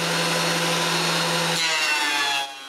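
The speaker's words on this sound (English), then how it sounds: "I can drill the screw holes." A power drill bores screw holes into wood for a dresser jig, a loud continuous whir that shifts pitch partway through as the bit cuts, then drops off near the end.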